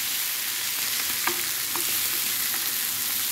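Salmon with tomatoes frying in a pan, a constant close sizzle with a few soft spatula scrapes and stirs over the hiss.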